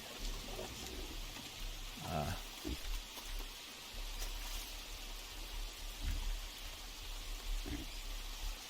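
Rain falling in the jungle survival game Green Hell, a soft steady patter with scattered drips and a few thumps, fairly quiet throughout.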